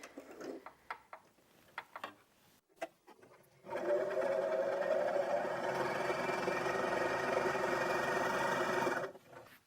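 A Janome 423S sewing machine stitches through four folded fabric layers, a few clicks and handling taps first, then a steady close mechanical whirr running for about six seconds before stopping.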